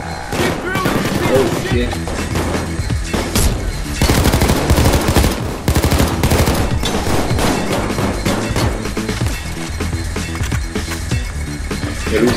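Gunfire in Payday 2 pounds in dense, rapid volleys and scattered single shots throughout a loud, chaotic firefight, with players talking over the shooting.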